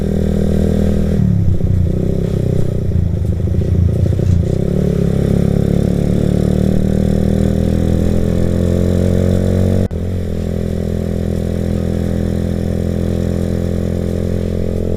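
A Suzuki Satria FU motorcycle without mirrors pushes through congested market traffic at Pasar Margasari, its engine droning loud and close with a shifting pitch, a brief drop near the end, and faint clatter.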